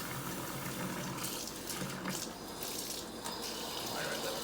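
Water running from a kitchen tap, a steady hissing stream splashing into the sink, quiet and continuous with slight shifts in the flow, no talking.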